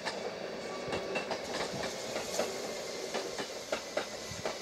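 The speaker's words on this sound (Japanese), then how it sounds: "JR の普通列車が琴平駅に到着です。" A JR local train rolls into Kotohira Station at moderate distance, wheels clacking in a steady irregular rhythm over a low rumble, slowing as it arrives; no voices.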